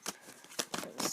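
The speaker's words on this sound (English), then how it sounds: "So I'm going to pull 3 cards just for some advice." Tarot cards are drawn from a deck: three or four brief papery slides and flicks, close and soft, with no voices.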